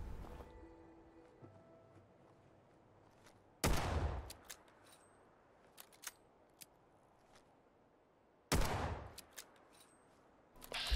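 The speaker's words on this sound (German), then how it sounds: "Schüsse sind immer noch auf meiner Seite" Two loud, sharp gunshot bursts ring out in the video game Fallout 4, set a few seconds apart against quiet ambient background, with small clicks and thuds between them.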